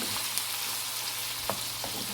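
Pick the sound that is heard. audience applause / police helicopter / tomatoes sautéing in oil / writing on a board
tomatoes sautéing in oil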